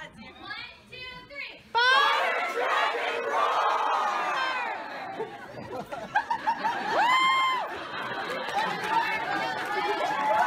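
Convention crowd at an anime event screaming and roaring for an arriving guest, with loud overlapping shrieks and cheers swelling after a brief lull, mixed with chatter and excited voices nearby.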